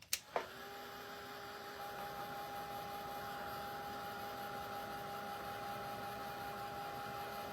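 A handheld heat dryer blows steadily over wet craft paint on a primitive pumpkin frame, a constant whirring hum with a faint tonal whine that starts abruptly after a soft click and runs on evenly without pause.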